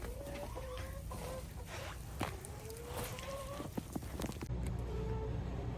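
Chickens cluck repeatedly in a dirty farm coop on a cold winter day, with short throaty calls overlapping close by. Light shuffling steps run underneath.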